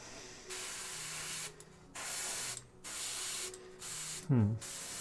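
An airbrush sprays paint for miniature painting in several bursts of steady hissing, each lasting about a second with short gaps, close and fairly quiet, alone with no talk.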